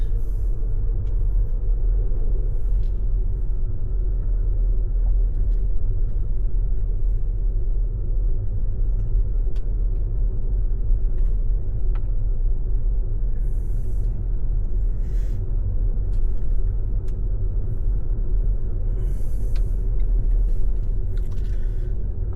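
A car drives along a road, giving a steady, loud low rumble of engine and road noise that holds without a break from start to finish, with no talking.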